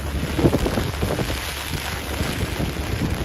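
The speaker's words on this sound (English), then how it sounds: "The rain is getting serious and serious." Steady rain falls on a Midtown Manhattan city street at night, a continuous broadband wash with rumbling wind buffeting the microphone, loud and constant with no talk.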